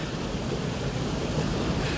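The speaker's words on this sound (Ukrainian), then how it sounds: "Ось так вода тече вперед тече." River water flows steadily during a boat float on the Romen River, a continuous broad rushing wash with some wind buffeting on the microphone and no voices.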